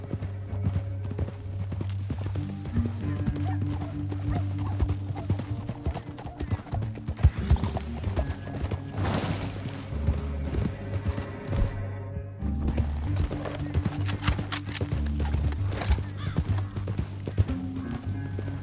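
Steady clip-clopping hoofbeats of galloping horses in a PS4 video game, continuous and fairly loud over a low rumbling backdrop, with no talking.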